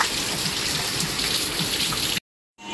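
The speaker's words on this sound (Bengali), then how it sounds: "ও কিচ্ছু দেখা যাচ্ছে না, বাপ রে বাপ, চূড়ান্ত বৃষ্টি।" Heavy rain during storm Remal, a dense, loud, continuous hiss of downpour on surfaces that cuts out abruptly before resuming briefly.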